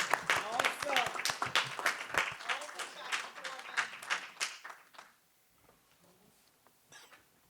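Audience applause at a school board business meeting: a dense, loud burst of many hands clapping for about five seconds, then it stops abruptly and leaves faint room sound with a little talk.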